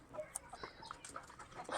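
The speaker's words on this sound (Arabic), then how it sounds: "الدجاج ديالنا هو تياكلها هنا دجاج بلدي خلط مع شي حاجه ديال الفيومي" Baladi hens mixed with Fayoumi chickens at a small farm, clucking in short scattered calls and chirps, fairly faint with a quiet background.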